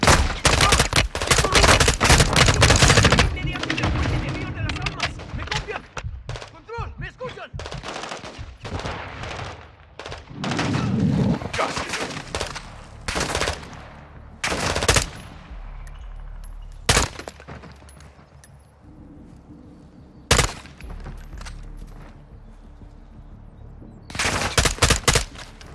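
Gunfire rattles through a Call of Duty Modern Warfare II battle, with dense machine-gun bursts at first, then scattered sharp shots and short volleys separated by quieter stretches, loud and close.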